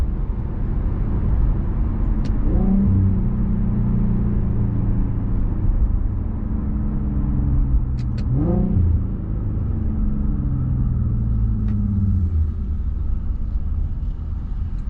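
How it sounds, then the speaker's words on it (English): An Infiniti fitted with a Helmholtz catback sport exhaust downshifts twice, each time with a sharp rev blip and rising then falling engine note over a steady loud exhaust rumble, heard alone without talk. "this is a catback exhaust, Helmholtz"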